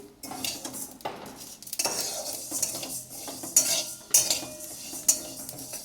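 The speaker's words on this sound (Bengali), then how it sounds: "কিরকম করে ভাজছি" Spices for pickle fry in a metal pan while a utensil stirs and scrapes them, a soft continuous sizzle broken by several sharp clinks of metal against the pan.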